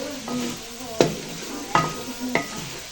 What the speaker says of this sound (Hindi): अब गोल्डन ब्राउन होने तक इसका कलर अच्छा आ जाएगा, हम इसको भुनाई करेंगे अच्छे तरीके से